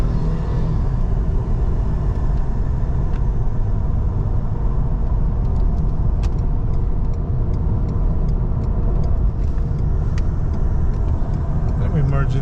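A silver 2016 Ford Expedition XLT 4x4 accelerates onto a freeway, its engine and road noise a steady loud rumble heard from inside the cabin, with a person talking over it.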